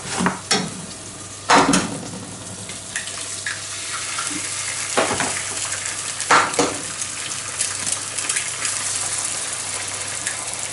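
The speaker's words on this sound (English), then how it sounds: "Couple of fried eggs with it, yeah." Eggs frying in a pan alongside giant puffball and oyster mushrooms, a soft steady sizzle broken by a few sharp scraping and clattering knocks of a utensil, close and moderately loud, no voices.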